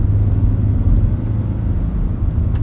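A lifted, safari-style 2022 Subaru BRZ driving on a loose surface of gravel, snow, dirt or ice, heard from inside as a steady, loud low rumble of engine and tyre roar with no talk.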